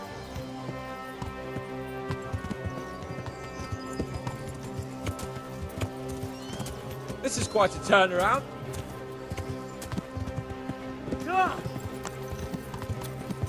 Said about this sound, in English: it's a good thing I have a faster horse